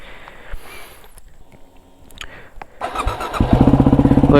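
A Yamaha WR250R motorcycle engine cranks and fires up after a few quiet mechanical clicks, then settles into a loud, close, rapid idle as it warms up.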